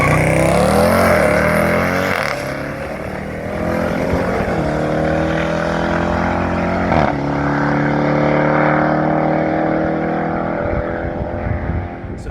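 A Jeep Grand Cherokee Trackhawk engine roars loudly and steadily, with sweeping rises in pitch as it revs and accelerates hard during drag racing, continuous and close throughout.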